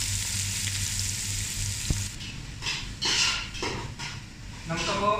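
Chopped onions drop into hot oil for a Malabar chicken biryani, a steady frying hiss followed by a few sharp bursts of sizzling and clattering as they are stirred in the pan.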